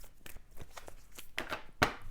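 A deck of cards being shuffled gives quick papery riffles and soft slaps, faint and close, in a loose run of brief bursts ending with a sharper snap.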